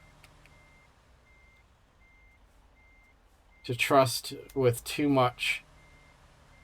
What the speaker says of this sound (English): semi-truck driving backwards around corners action